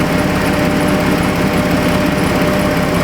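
A 2007 Jeep Grand Cherokee engine runs steadily with its alternator charging under full electrical load, a loud, even, buzzing mechanical drone close by with no talk.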